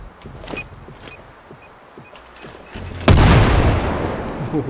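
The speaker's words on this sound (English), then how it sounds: "Yeah, that was an explosion." A loud, sudden boom bursts in partway through, preceded by quieter movement and faint noises, in the tactical sniper shooter Sniper Ghost Warrior: Contracts, its rumbling blast and debris decaying over the final second and a half.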